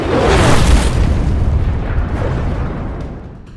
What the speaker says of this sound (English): dropping precision-guided bombs.